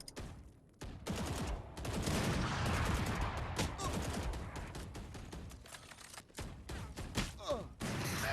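Rapid bursts of gunfire in a shooter video game match, dense automatic fire with short gaps and sharp individual shots, loud and close throughout.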